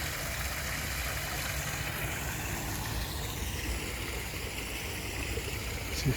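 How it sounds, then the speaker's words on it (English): A small waterfall flowing outdoors gives a steady, broadband rushing wash of water at a constant low level throughout, with no voices heard. "Nice little waterfall there."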